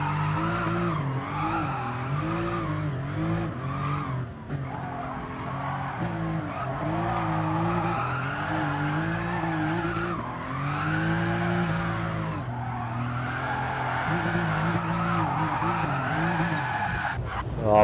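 Tires squeal steadily as a car drifts and slides rally-style under the handbrake in a time-trial racing video game, with the engine note rising and falling between skids and faint talk underneath.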